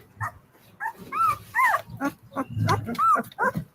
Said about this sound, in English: Listen to that deep growl